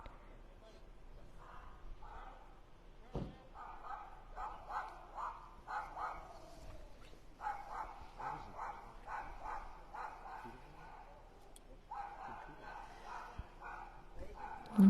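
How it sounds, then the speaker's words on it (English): Dog barking outdoors at night during a police scene in a Providence neighborhood, a series of repeated barks in bursts across the clip, moderately distant, over ambient street noise and faint background voices. "you can see the dog barking"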